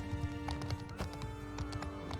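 Horse hooves clip-clop in a medieval combat video game, a steady uneven patter of footfalls close by over a constant background of battle noise and low rumble.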